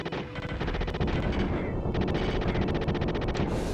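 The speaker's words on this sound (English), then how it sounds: "Look, I'll use the gun, okay?" Rapid gunfire from the PS1 game Prisoner, dense continuous bursts of shots firing loud and steady for nearly four seconds with no pauses.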